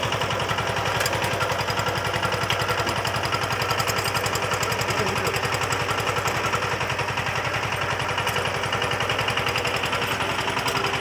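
The diesel engine of a VST Shakti 130 DI power tiller runs steadily and loudly, its rapid, even thumping chug continuing nonstop throughout with no change in pace and no voices.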